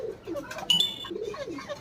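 Pigeons coo in a poultry yard with a young pigeon and chickens around, giving a few soft, low rounded calls close by, with a brief brighter chirp partway through and no talking.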